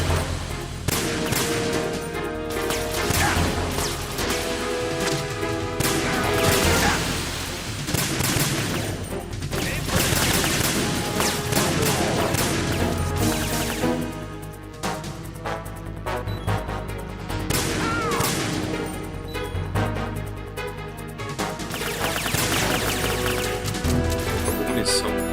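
Gunfire from the PS2 video game Metal Gear Solid 2 on hard difficulty, dense bursts of shots and crashing impacts over a continuous loud game soundtrack, with a voice occasionally talking over it.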